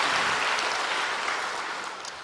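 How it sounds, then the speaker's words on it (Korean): A church congregation applauds to comfort a bereaved family, a dense, even patter of clapping that fades slightly toward the end. "저희가 박수로 이 가족을 위로하겠습니다"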